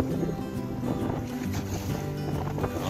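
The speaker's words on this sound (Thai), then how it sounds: "ฟังเสียงคลื่นลมซะก่อน" Wind and sea waves around a fishing boat out on the water, a steady broadband rush with low rumbling and sloshing throughout, no talking.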